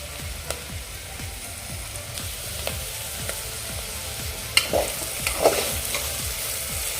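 Mixed vegetables for Bhogi bhaji are sautéed in oil and spices, a continuous close sizzle with rhythmic spatula scrapes and taps roughly every half second, and a couple of louder clanks near the end.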